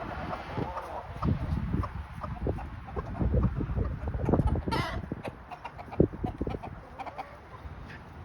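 Backyard chickens cluck and squabble over a dead mouse, busy overlapping clucks and sharp squawks close by, rising and falling with a few louder bursts.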